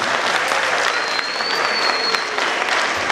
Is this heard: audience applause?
yes